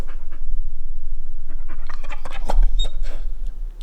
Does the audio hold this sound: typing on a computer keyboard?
no